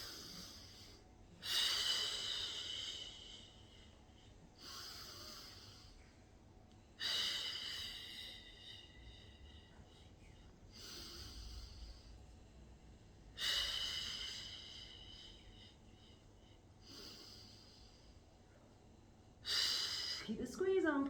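Heavy exhaled breaths in an exercise class, four or five loud, breathy bursts spaced a few seconds apart over a quieter room background, with breathing sounds between them.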